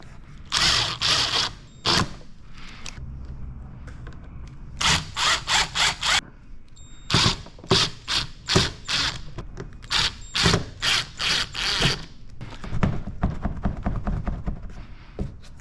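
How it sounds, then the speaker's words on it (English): Screws are driven into the rear bumper of a 2024 Toyota Camry with a power driver, heard as loud, close bursts of whirring and ratcheting separated by short pauses, with no talking. "Now we'll go ahead and put these screws in."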